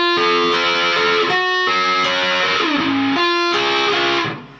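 An electric guitar plays a riff through a Flatley Solaris fuzz pedal cranked up, loud and distorted, with sustained buzzing notes shifting pitch in a short melodic line before cutting off and fading.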